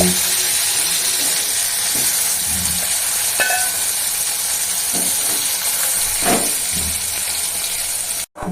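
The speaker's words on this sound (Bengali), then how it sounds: "এটা বেগুন মাজা হচ্ছে" Continuous hissing sizzle of eggplant frying in oil, with occasional scrapes and knocks from a spatula, ending in an abrupt cut.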